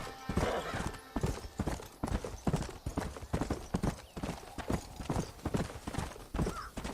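Horse hooves clip-clop in a steady, fairly close rhythm in the video game Red Dead Redemption on PS3, repeated loud percussive hits with a brief whinny-like sound mixed in.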